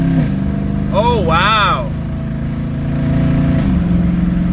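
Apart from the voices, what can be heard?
Toyota Tundra 4.6L with muffler delete exhaust accelerating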